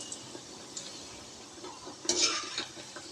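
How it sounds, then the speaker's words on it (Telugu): Chocolate donuts frying in oil give a soft, quiet sizzle punctuated by a few light utensil clinks, with a brief louder burst of crackle near the end. "ఇలా 2 సైడ్స్ టర్న్ చేసుకుంటా గోల్డెన్ బ్రౌన్ కలర్ వచ్చే వరకు వీటిని ఫ్రై చేసుకోవాలి."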